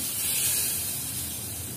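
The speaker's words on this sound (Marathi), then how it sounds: "अशी चुरचुरीत अशी फोडणी टाकून घ्यायची" A short burst of hot crackling tempering poured onto beetroot salad, a soft broad hiss that fades slightly toward the end.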